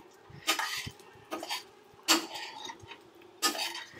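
A spoon stirring mint rice in a pan: four distinct metallic scrapes and clanks of utensil against the pan, spaced about a second apart, close and fairly clear.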